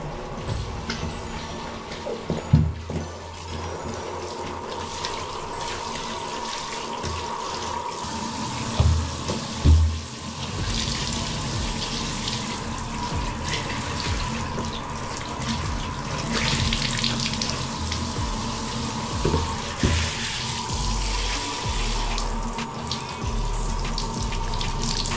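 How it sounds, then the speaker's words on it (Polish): Water runs steadily from a tap into a bathtub to soak dirty gloves, a loud continuous splashing stream with a few knocks and handling bumps mixed in. "pierwszym krokiem, żeby umyć właśnie ten brud, będzie po prostu namoczenie rękawic, zwilżenie po prostu wodą"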